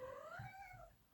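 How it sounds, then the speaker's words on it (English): Simba, a pet cat, lets out a single faint, drawn-out meow that rises and falls, heard quietly at a distance in an otherwise still room. "Oh, I don't know if you can hear my cat."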